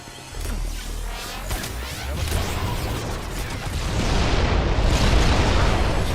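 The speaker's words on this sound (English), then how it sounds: "Grenade, move!" A grenade blast in the video game Halo: a loud, broadband boom and rushing roar that builds over several seconds and stays dense and close, with no clear pause.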